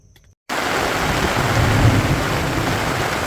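Steady rain pours at Hartebeespoort Dam, a dense, close hiss that begins abruptly after a brief quiet moment and continues evenly, with a faint low rumble underneath.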